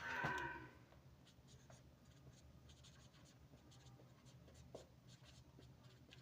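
Chalk or marker writing on a board in a biology lecture gives faint, scattered scratching strokes with quiet room noise between them, and a brief louder sound at the very start.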